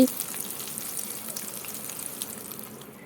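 Spices and a bay leaf fry in hot oil in a pan, giving a continuous bright sizzle with small crackles that slowly fade, close up and without voices.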